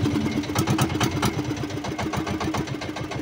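A boat's motor idles steadily at close range in Burdeos, Quezon, with a dense, rhythmic low-pitched chugging that holds throughout and is heard alone.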